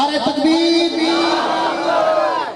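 A large crowd at a religious gathering bellows a loud unified chant answering the Nara-e-Takbir slogan call, one sustained collective shout that swells and then tapers off.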